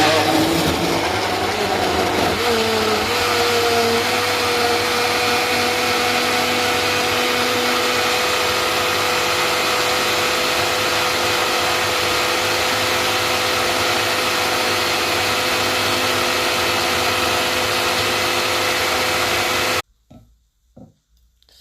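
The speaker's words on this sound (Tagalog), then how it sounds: "I-blender na natin siya." A loud, steady blender motor whirs without letup for about twenty seconds making a carrot, apple and banana smoothie, then cuts off abruptly, leaving a few faint knocks.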